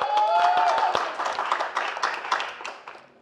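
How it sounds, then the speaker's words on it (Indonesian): Audience at an Indonesian stand-up comedy roast show applauding: a burst of claps and whistles, loud and close at first, then thinning as a single whistle-like tone rises over it. "Boleh minta tepuk tangannya teman-teman?"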